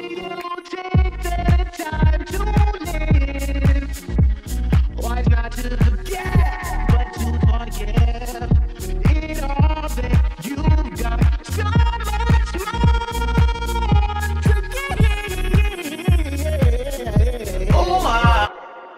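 A pop/R&B song mix with a pumping effect, the beat-driven music swelling and ducking rhythmically in steady pulses throughout, loud and continuous with no talking.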